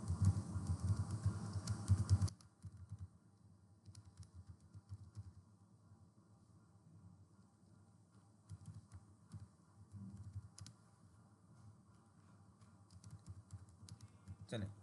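Python code is typed on a computer keyboard during a programming lecture, with a quick burst of loud clatter at the start, then softer scattered keystrokes while someone talks.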